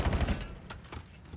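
Rapid bursts of gunfire in a Call of Duty esports match, several quick shots in a ragged rhythm, moderately loud with a sharper crack at the end.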